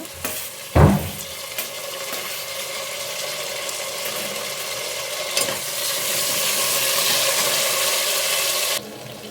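Tomatoes frying in a pan with onions for menthe bath, a steady hiss and sizzle building through the clip with occasional stirring knocks, close and fairly loud, no talk.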